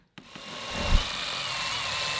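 A power tool bites into a cyclone separator to make a hole, starting abruptly and running as a loud, steady whine with a brief grinding surge near the start.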